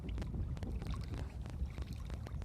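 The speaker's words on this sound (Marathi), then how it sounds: "पण आवाज तुम्ही पाहू शकता होडीचा." A rowboat moving on a dam reservoir, with steady low rumbling water and hull noise throughout, close and continuous, broken by faint knocking clicks.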